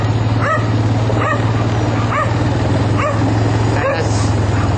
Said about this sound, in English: Big Rhodesian Ridgeback puppy